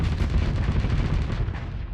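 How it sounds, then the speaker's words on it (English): Assault chain guns in the Starsector space combat game fire as a dense, continuous roar of rapid heavy shots and booms, loud and close, with no pause through the stretch. "Switch to your assault chain guns and punch through the armor to break through faster"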